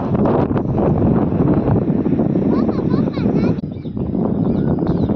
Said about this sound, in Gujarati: કેટલો મસ્ત પવન ઠંડો ઠંડો આવે છે